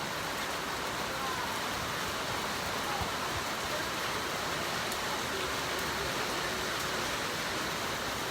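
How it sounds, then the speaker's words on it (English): Steady rain pours onto a porch in Ghana, a dense, even hiss of falling water with no let-up, fairly soft and constant throughout. "So this is our third wave of rain in the last hour or so"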